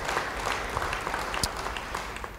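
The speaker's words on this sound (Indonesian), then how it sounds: "Beri tepuk tangan bagi dia." Applause from a church congregation, a steady dense patter of many clapping hands at moderate distance, running throughout with no talk over it.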